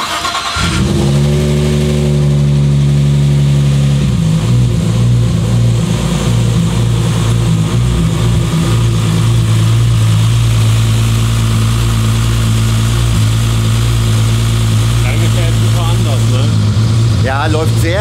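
A Haltech-tuned race car engine cranks and fires up loudly nearby, then settles into a rough, steady idle with occasional revs, while people talk in the background.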